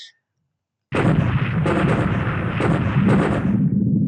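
A torpedo strikes the battleship Nevada in the naval war game War in the Pacific, a loud rumbling explosion that bursts in after a brief silence and rolls on with heavy booms.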